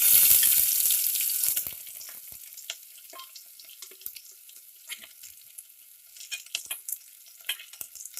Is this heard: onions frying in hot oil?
yes